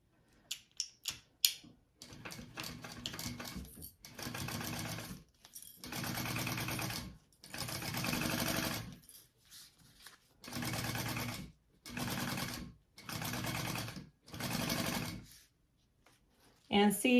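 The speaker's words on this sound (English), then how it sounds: "I'm going to go ahead and sew that" A domestic sewing machine stitches a tote bag seam in several bursts of rapid mechanical whirring separated by short pauses, close and steady, with a few clicks at the start.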